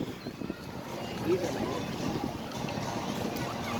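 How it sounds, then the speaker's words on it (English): Wind buffets the microphone outdoors at the Kennedy Space Center Visitors Complex, a steady low rumbling roar with gusty swells that lasts throughout and covers other sounds. "the wind is blowing, you can't hear anything."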